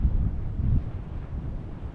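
Wind blowing outdoors in cold, blustery conditions during a camping stove test, a low steady rumble with gusty buffeting against the microphone, loudest in the first second and continuing throughout.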